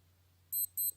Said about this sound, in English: That's the sound of your alarm.